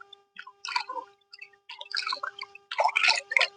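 Hands being washed with water after a skin-care treatment make short bursts of splashing and wet rubbing in irregular clusters, close and moderately loud, with brief quiet gaps between.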